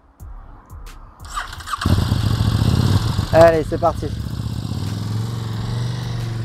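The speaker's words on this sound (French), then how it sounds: "La moto est partie." A motorcycle engine cranks and fires into a rough idle, revs up sharply, then settles into a steady running drone as the bike rides off; someone speaks briefly over the start.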